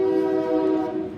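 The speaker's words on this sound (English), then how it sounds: "Yep, that's the same train." A train horn sounds one loud, sustained, steady tone close by, as the train passes.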